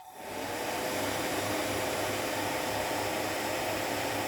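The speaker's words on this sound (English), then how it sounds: "We want this as dry as possible, so I am going to use the hairdryer." A hairdryer on a low setting blows steadily over freshly cast resin gems, a constant close whooshing roar with a faint motor hum and no voices.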